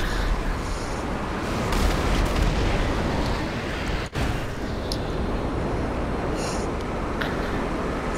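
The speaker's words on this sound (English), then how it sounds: "Oh, look, you shot more rockets." Rocket explosions in Grand Theft Auto V: a continuous loud roaring rumble of blasts and burning, steady throughout with one brief sharp crack in the middle, no talk.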